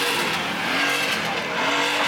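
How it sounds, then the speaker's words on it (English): A car engine revs loudly at a car meet where a BMW 335, an M5 and a GT are on show, a dense continuous roar with rising and falling pitch and no voices over it. "Man, they just revving that shit."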